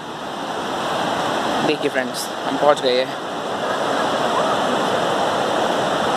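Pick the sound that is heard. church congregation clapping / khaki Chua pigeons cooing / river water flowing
river water flowing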